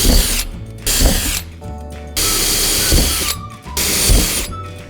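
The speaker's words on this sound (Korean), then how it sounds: "4개의 구멍을 뚫어서" A power drill bores four holes for an agitator support in a homemade liquid-fertilizer maker, with several loud whirring bursts broken by short pauses, close and without any voice.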